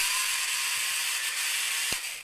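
The motor of a broken heat blaster with its blown fuse bypassed runs in a thin, rattly whir with a steady mechanical buzz, and a brief knock sounds near the end before it winds down.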